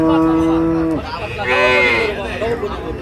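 A dairy cow at a cattle market lets out a loud, low moo that drops off, followed by a second rising call nearby.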